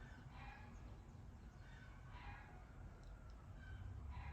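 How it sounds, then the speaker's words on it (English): Roosters crow repeatedly in the distance, several drawn-out calls with small birds chirping around them, faint and steady beneath an outdoor background hiss. "Those roosters and birds, like, you gotta just get used to them."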